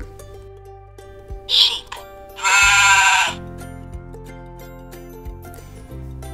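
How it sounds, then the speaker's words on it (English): A sheep bleats twice on a farm, a short call followed by a longer, louder wavering bleat, heard over quiet background music. "Let's listen to the sheep."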